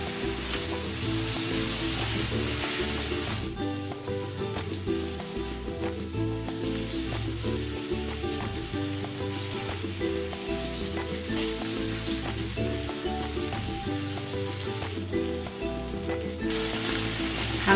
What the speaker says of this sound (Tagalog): Salang na natin itong chicken.